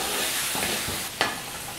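Gooseberries and their water hiss and sizzle steadily in a hot pan, with a few soft stirring knocks and one brief sharper splash near the end.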